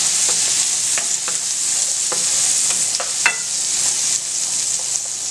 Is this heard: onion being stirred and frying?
yes